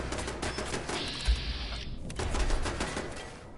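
Rapid, steady automatic turret gunfire in Fallout 4, a continuous rattling stream of shots heard from a distance, with a high tone briefly sounding over it, no talk.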